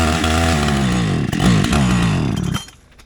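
A large chainsaw, bigger than a 60cc model, cuts through a hardwood tree. The engine screams loud and close with rising and falling pitch as it bogs and revs, then cuts out near the end.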